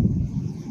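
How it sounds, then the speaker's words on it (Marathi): Strong wind near a waterfall at Murud-Janjira, a steady low rumbling buffet across the microphone with no voices over it. "वाराचा आवाज आहे ना जास्त"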